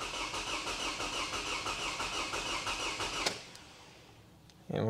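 A Toyota Camry engine with a misfire runs steadily with the throttle held open, a loud, even, buzzing drone close by that suddenly cuts off, leaving near quiet before a brief bump at the end.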